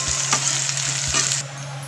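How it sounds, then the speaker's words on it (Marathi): Onion sizzles and crackles in hot oil in a pan already holding curry leaves, a close, steady frying hiss with a couple of soft stirring scrapes before it dips slightly at the end. "कांदा व्यवस्थित असा लालसर परतून घेऊ."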